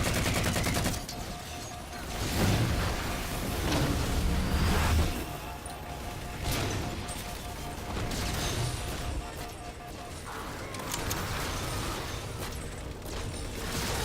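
Gunfire in the video game Halo 4, with repeated bursts of automatic shots and bangs coming in uneven waves over a dense battle background, and someone talking at times.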